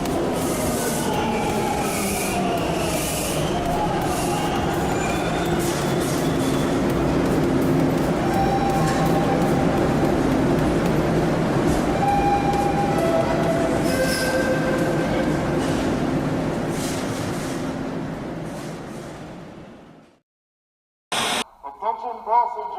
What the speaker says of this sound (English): the DeRailer train is going to be leaving the station very shortly